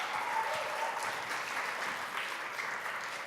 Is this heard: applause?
yes